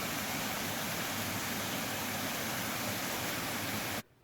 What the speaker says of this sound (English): Just relax and take a moment and listen to the sound of the water.